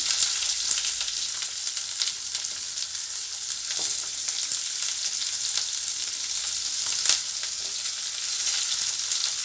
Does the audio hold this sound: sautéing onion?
yes